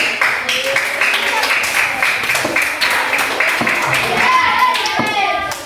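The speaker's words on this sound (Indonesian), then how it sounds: "Oke, silakan duduk, beri tepuk tangan" Classroom applause from pupils after a child answers, a teacher's call to clap: dense, steady clapping from a group close by, with children's voices chattering over it toward the end.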